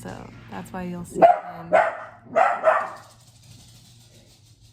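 A pet dog at home gives a few short, loud barks close by, followed by a pause, while someone speaks around them.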